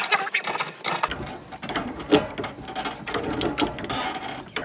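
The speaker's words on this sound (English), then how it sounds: "The second set of pliers is there to hold the gas valve so it doesn't get twisted off." Pliers work on a threaded fitting at a pool heater's gas valve during installation, while a second pair holds the valve. Close metallic ratcheting clicks and scraping come in uneven bursts, with no talking.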